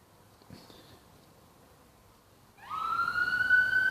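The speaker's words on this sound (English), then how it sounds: "there's obviously an ambulance going by" An ambulance siren passing by outdoors starts after a quiet stretch, a loud steady wail rising in level and holding to the end of the clip.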